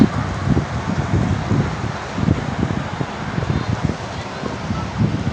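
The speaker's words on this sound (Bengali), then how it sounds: "বৃষ্টি আর অনেক বাতাস।" Strong wind gusting with rain outdoors, buffeting the microphone in uneven low rumbles over a steady hiss; no speech.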